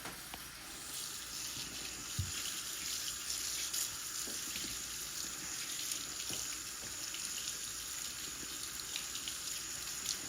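Tap water runs steadily into a sink, rinsing conditioner out of a doll's hair, a continuous close splashing gush with faint handling knocks and no talk over it.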